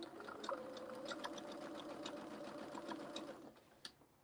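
A sewing machine runs steadily while stitching a seam with the presser foot along the seam allowance, a continuous whirring motor that holds for about three and a half seconds before stopping, followed by a small click.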